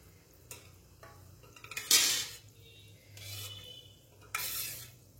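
Fried khoya gulab jamun are dropped into sugar syrup in a pot, with several soft splashing, scraping bursts of a spoon moving through the syrup against the metal, and quiet pauses between them.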